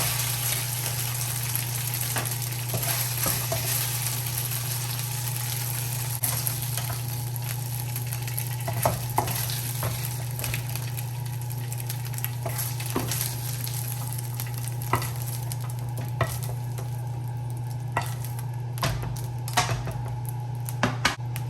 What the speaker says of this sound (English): after stir frying my chicken for about 6 minutes